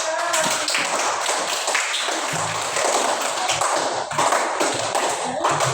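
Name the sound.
class clapping hands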